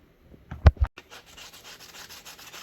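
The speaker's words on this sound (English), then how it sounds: "I used some sandpaper to get the remaining residue off and roughen up the surface a bit" Sandpaper rubs across the bottom of a shoe to strip leftover sole residue, a couple of sharp scraping strokes followed by lighter, faint, repeated rasping, quiet and close.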